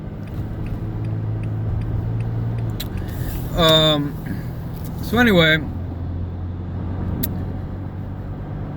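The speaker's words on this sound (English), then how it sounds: "I'm in some traffic right now." A car idles in traffic with a low, steady engine hum, while someone speaks briefly twice over it.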